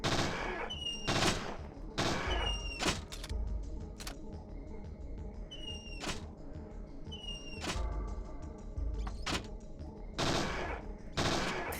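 Gunfire in the video game Parasite Eve II, sharp close shots arriving singly and in quick bursts across the stretch, with short pauses between volleys over a quiet game background.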